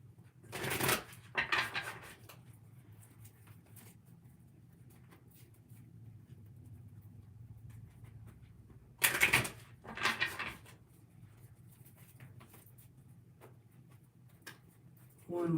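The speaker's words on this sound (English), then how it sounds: "One more shuffle here." Tarot cards are shuffled in two short bursts of riffling, quiet and close, separated by long near-silent stretches with faint background hum.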